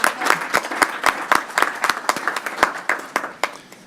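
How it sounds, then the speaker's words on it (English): Audience applause at a school board meeting, a steady wash of many hands clapping with sharp individual claps standing out throughout, fairly close and sustained for several seconds with no talk. "Let's have one more round of applause for everybody."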